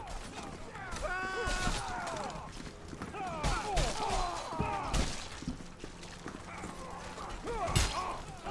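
Horse hooves in the Mordhau video game, with clip-clop footfalls mixed into a busy battle soundscape of sharp clashes and other game effects, fairly quiet overall, with voices talking over it.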